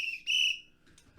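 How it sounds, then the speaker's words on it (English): A crossing guard's whistle shrieks in two sharp, shrill bursts, the second one louder and longer, followed by a faint short chirp in otherwise quiet surroundings. "Then the crossing guard blew his whistle again in two sharp bursts that made Nora jump."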